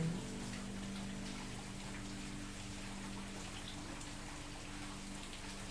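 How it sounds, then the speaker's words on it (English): Steady rain falls continuously, a soft even patter that stays constant throughout with a faint low hum underneath. "The sound of the rain."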